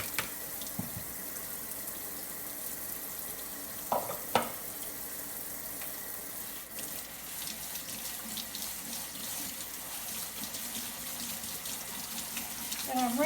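Homemade butter is rinsed under a running kitchen tap, a steady hiss of water splashing into a strainer with a few clinks and knocks.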